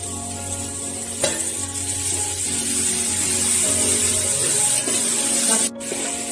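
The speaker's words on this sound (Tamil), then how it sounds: "இந்த தக்காளியை ஆட் பண்ணிக்கலாம்." Tomatoes sizzling and frying in hot oil for a spicy crab gravy, a steady hissing crackle with a brief stir or clatter near the start and a short dip near the end.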